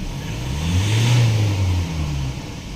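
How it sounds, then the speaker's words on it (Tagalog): Ford Raptor engine with low power and a check engine light, revving once in a short, strained swell that rises, peaks and falls back without climbing further. "Dati hirap na hirap to sa 2000 RPM. Halos ayaw umakyat ng 2000 RPM."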